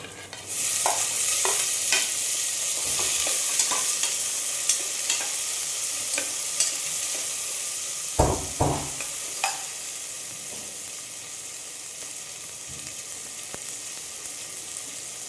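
Garlic and tomato fry in a pan for a Gujarati-style corn dish, a steady loud sizzle broken by occasional scraping stirs and a couple of clanks from the spoon against the pan.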